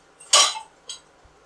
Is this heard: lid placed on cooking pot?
yes